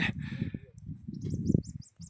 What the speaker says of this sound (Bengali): ছোট্ট ছোট্ট পাখিরা ডাকছে